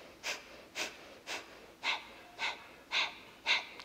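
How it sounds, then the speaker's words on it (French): Deep, slow breaths during a yoga flow session, seven evenly spaced airy inhales and exhales close to the microphone in an otherwise quiet room. "Encore quelques respirations."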